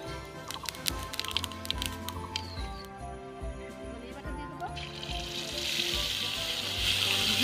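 Whole cumin seeds and a bay leaf hit hot oil in a kadai, giving a steady close sizzle that builds louder toward the end, with a few clinks and background music at the start.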